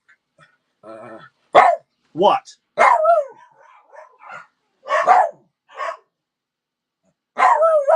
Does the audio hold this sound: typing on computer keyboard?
no